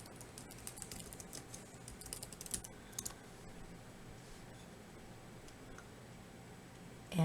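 Close, quiet clicking of a computer keyboard as a search term is typed, a quick run of keystrokes for about three seconds, then near silence.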